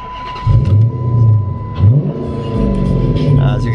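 A 2006 Chrysler 300C SRT8 with 96,000 miles revs its engine close by, a deep rumbling idle rising in a few throaty blips and swells over about four seconds, with no talk over it.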